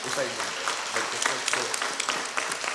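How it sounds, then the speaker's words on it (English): A crowd at a classical Indian dance performance applauds with scattered individual claps standing out, while voices talk and cheer over the clapping. "Give her a big round of applause."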